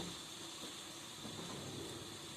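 Potatoes frying in hot oil give a steady, faint, even sizzling hiss that continues without a break.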